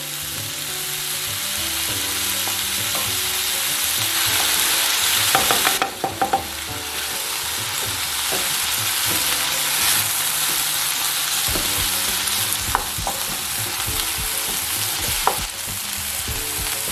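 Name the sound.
eggs being lightly scrambled in a pan for chicken fried rice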